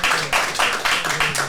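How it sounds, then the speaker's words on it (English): Audience clapping in a talk-show or podcast studio setting, a steady dense burst of applause swelling in waves across the whole moment, fairly loud, with no one speaking over it. "give her a round of applause"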